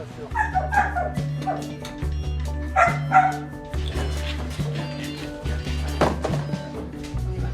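Belgian Malinois dogs shut in small cages in a dark cellar, whimpering and yipping with sharp barks over a steady low hum, close and repeated, with a voice talking at times.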